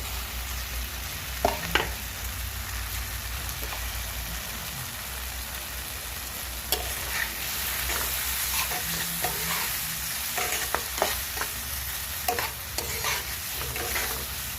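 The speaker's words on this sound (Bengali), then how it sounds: "এবার এই করলাগুলো দিয়ে দেবো" Bitter gourds sizzle in hot spiced oil as they are stirred, a steady loud frying hiss broken by occasional scrapes and knocks of the spoon against the pan, close up and without speech.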